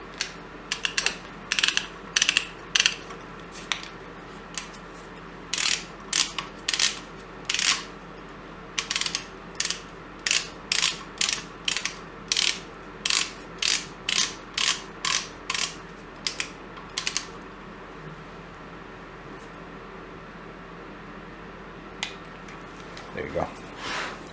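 Ratchet clicking in regular bursts while tightening bolts on the oil pan of a Nissan VK45DE 4.5-liter V8 during engine reassembly, close and crisp, with quiet pauses between strokes and a brief clatter near the end.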